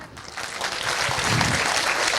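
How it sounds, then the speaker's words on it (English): Schoolchildren and families applaud at a school annual gathering in Hinjawadi after a performance, a steady crowd of clapping that swells slightly over two seconds. "Let the claps roar."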